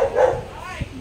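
A big husky dog gives a short bark or yip up close, with a person talking over it in the same moment.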